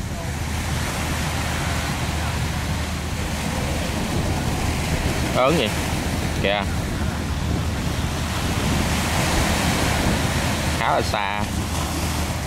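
Heavy sea waves surge and break against an iron ship offshore in a continuous roar of surf and wind buffeting the microphone, with someone speaking briefly over the noise.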